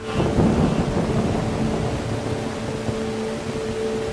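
Rain pours steadily with low rolling thunder rumbling underneath during a thunderstorm in the escape room game A Night at the Watermill, loud and continuous with no talking.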